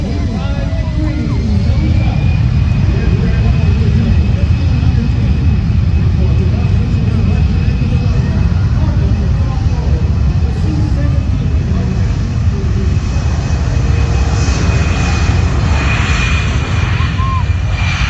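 A military airplane taking off at the Dover Air Force Base air show, a loud, sustained engine roar with deep low rumble continuing throughout, with faint announcer talk beneath it.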